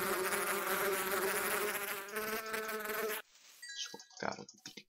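Insect buzzing from a bee in the Minecraft video game, a loud steady drone for about three seconds that cuts off abruptly, followed by scattered tonal chirps and clicks.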